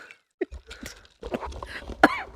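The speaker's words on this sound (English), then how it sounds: "You need to stop coughing." A few short, rough coughs ring out nearby amid soft shuffling and background movement.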